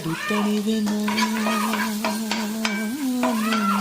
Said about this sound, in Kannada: ಚೆನ್ನಾಗಿ ರೋಸ್ಟ್ ಮಾಡ್ಕೊಳ್ಳಿ. ಬೆಳ್ಳುಳ್ಳಿ ರೋಸ್ಟ್ ಆಗಿದೆ